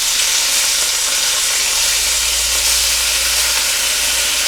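Bacon fries in a hot pan for a full English breakfast, giving off a continuous, dense sizzle and crackle with a bright hiss, close and steady, and no voices.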